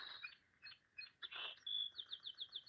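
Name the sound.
song sparrow singing its song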